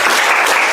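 A classroom of students clapping their hands together, a short dense burst of applause filling the room, heard on its own.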